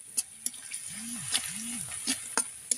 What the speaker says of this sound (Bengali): তো শুটকি মাছ মরিচ পেঁয়াজ রসুন একসাথে ভেজে নেব ভালো করে।